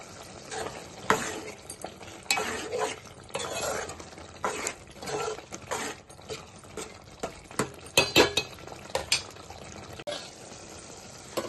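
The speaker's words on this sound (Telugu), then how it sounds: "1 స్పూన్ గరం మసాలా, కొంచెం కొత్తిమీర వేసి కలుపుతాం." Gongura curry is stirred in a pan after garam masala and coriander go in, making soft repeated scraping and clinking of a spoon against the vessel over a light, steady sizzle.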